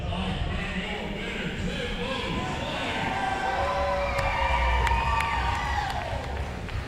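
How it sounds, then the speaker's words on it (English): Wrestling event crowd cheering and roaring, a dense sustained din of many voices with shouts and whistles rising near the end, a commentator talking over it. "A lot of noise being made from the crowd."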